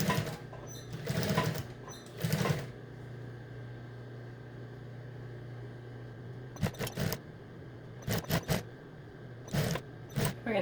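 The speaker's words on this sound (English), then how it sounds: "you can see if your machine will sew right over it." A home sewing machine stitches across a thick hooded towel seam in short separate runs, whirring at close range in bursts of about a second with quiet pauses between them, and no one speaks.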